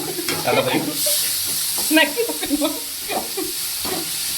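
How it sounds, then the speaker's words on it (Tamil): Onions sautéing in a pan for a Tamil-style egg thokku, a steady close sizzle with stirring scrapes, while a person talks over the cooking. "நல்லா பொன்னிறமாக வதங்கணும்"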